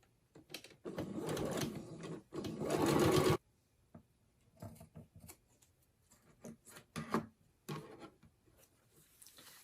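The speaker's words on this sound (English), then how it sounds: "We'll go ahead and sew this one" A sewing machine stitches a seam on a tote bag, running in two steady buzzing bursts and then short stop-start spurts of stitching with quiet handling noise between them.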